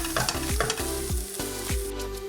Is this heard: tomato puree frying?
yes